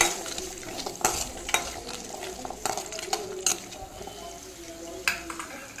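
Garlic and dried red chillies are sautéed in a pan for a chutney, giving a soft, steady sizzle under repeated scrapes and clinks of a spoon against the pan.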